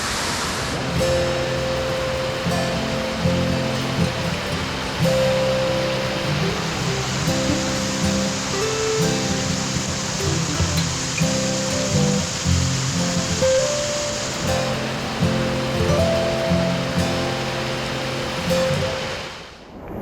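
Rajai waterfall in Sunamganj, Bangladesh, swollen by heavy rain, gives a loud, continuous broadband rush of falling water with tonal background music, and the sound fades away sharply at the end.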